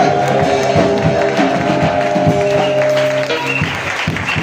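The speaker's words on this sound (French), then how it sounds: "On peut acclamer Jésus-Christ ce matin." A church congregation at a pastoral opening service in Anyama applauds Jesus Christ, sustained clapping from a large crowd mixed with music and cheering, loud and steady throughout.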